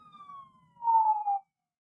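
A vehicle siren passes down a street outside an open window, a faint, thin wailing tone that swells briefly louder and then cuts off into silence.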